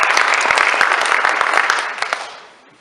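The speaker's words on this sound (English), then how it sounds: "let's give her a round of applause for that" Audience at a chapter banquet applauds loudly with dense, close clapping that holds steady for about two seconds, then tapers off and fades out.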